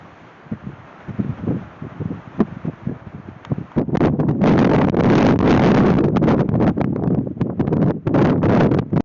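Strong, cold wind gusts buffet the microphone outdoors in Utah among dead trees, starting in bursts and then roaring almost continuously, loud and close.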